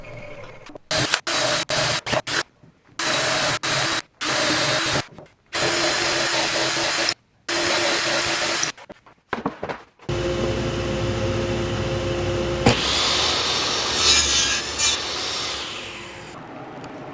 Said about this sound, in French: On colle le deuxième gabarit pour que les trous soient percés exactement au bon endroit.